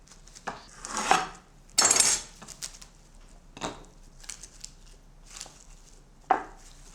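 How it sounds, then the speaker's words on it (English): Cling wrap pulled and pressed into a ramekin, giving a few close crinkly rustles and bursts of plastic crackle, with a couple of dull taps against the dish, scattered irregularly with quiet gaps between. "my tip here is to line the ramekin with some cling wrap so the rice doesn't stick"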